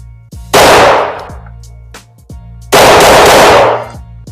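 Two loud, close firearm shots from a handgun fed by a .45 magazine, each a sharp blast with a long decaying tail, about two seconds apart, with quieter handling clicks between them.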